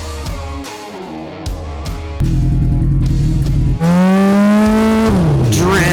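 Street-legal land speed motorcycle being ridden, its engine loud and harmonic, surging and revving up through rising pitch sweeps with tire noise, heavy and continuous after a quieter opening, then dropping off near the end.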